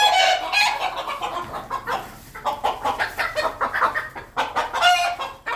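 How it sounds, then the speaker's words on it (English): About ten agitated roosters, half of them bantams, cluck and squawk loudly in a rapid, overlapping burst, with restless sharp calls continuing throughout at close range. "10 very angry roosters, half of which are bantams"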